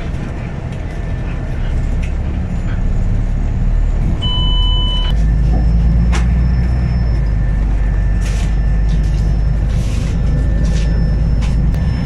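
Steady low rumble of a SAPTCO bus interior while riding in Saudi Arabia, with engine drone and road noise throughout, faint rattles, and a brief tonal beep partway through.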